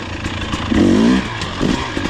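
A 2023 KTM 300 XC dirt bike engine, close and loud, blips through a short rising rev around the middle, then a second smaller throttle burst, with a steady two-stroke running note underneath throughout.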